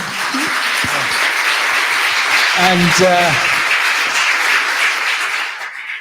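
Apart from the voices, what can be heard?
audience applause for Hans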